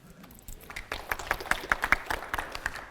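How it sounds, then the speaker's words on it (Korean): Audience applause at a bio-technology licensing talk, scattered claps rising from a few sparse hands into a moderate, uneven patter that stays fairly faint and distant. "박수 부탁드립니다"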